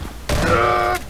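A single loud, brief burst of gunfire rings out in cooperative Half-Life 2 Synergy play, lasting well under a second against quieter background game noise.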